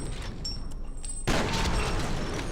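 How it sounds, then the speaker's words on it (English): A shotgun in the first-person shooter F.E.A.R. fires one loud, punchy blast that cuts in sharply midway and rings out over continuous game ambience. "the shotgun here, it just feels like it has a really good punch to it"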